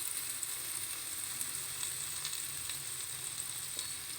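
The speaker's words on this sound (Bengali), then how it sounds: "পেঁয়াজ বাটাটা দিয়ে ভালো করে কষিয়ে নিতে হবে" Onion paste and green chili paste sizzling in a pan, a soft, continuous hiss with small pops and faint stirring, heard alone without talking.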